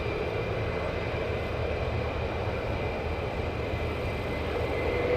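Military jets of the Panthers squadron taxiing out at RAF Lakenheath, a loud steady engine roar and whine sustained throughout.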